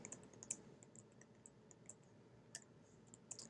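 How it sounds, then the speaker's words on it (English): Data typed into a spreadsheet on a computer keyboard: soft, irregular key clicks with a few sharper taps, faint and close against a low background hum, no voices. "we're going to type in this data"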